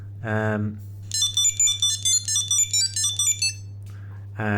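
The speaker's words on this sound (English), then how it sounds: "It's a fairly loud ring that you can actually hear it." A fairly loud electronic ringtone from a Chipolo One item tracker plays a bright, repeating chirpy melody for a few seconds, with brief speech just before and after it.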